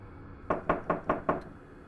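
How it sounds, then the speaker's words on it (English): Five sharp, evenly spaced knocks on a door ring out in a quiet, ominous setting, each a distinct hollow thud with a faint sixth tap trailing off. "The knocking started again."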